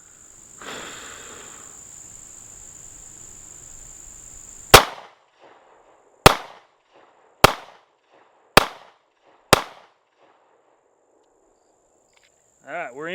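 Five sharp Sig Sauer P365 pistol shots fired at a target, loud and close, spaced about a second apart with short echoes trailing each one and quiet between.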